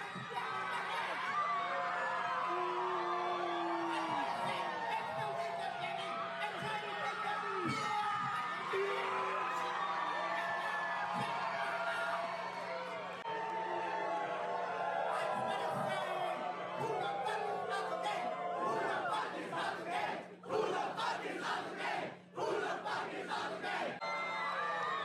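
A crowd at a live stage show cheers, whoops and yells without a break. The roar is dense and loud, with voices and sharp shouts mixed through it, and it thins briefly near the end.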